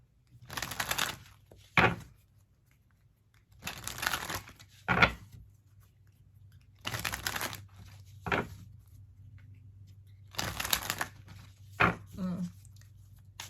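Tarot cards being shuffled in several bursts of crisp riffling and flicking, separated by brief pauses, close up and moderately loud over a low steady hum.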